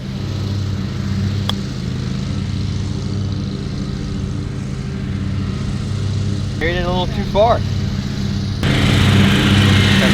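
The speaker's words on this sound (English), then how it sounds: "That's a lawnmower back there, so I have to talk a little louder" Lawn mower droning steadily in the background on a golf course, a constant low engine hum under someone speaking close by, with a few higher tonal squeaks partway through.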